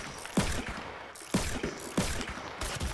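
Revolver shots ring out in a video game battle, with three sharp, loud bangs about half a second apart, each followed by a brief mechanical rattle and clicking, and no talk.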